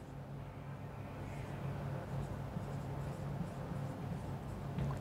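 A pen scratches steadily across paper or a board while a maths solution is written out, a soft continuous scraping that runs without pause for several seconds.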